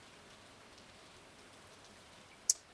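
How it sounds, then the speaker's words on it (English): Steady soft rain falling in the Stardew Valley farming game, a continuous faint hiss of drops throughout with one brief sharp drip-like tick near the end. "It's raining again."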